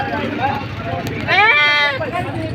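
A goat bleats at a goat market in Padre Garcia, Batangas, one wavering, nasal call near the middle, set amid steady crowd chatter and people talking close by.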